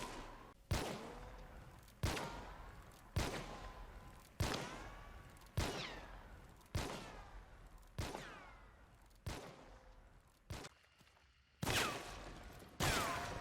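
Gunshots from the video game Hunt: Showdown ring out about once a second, eleven sharp reports each trailing off in a decaying ring, loud and close with no talk over them.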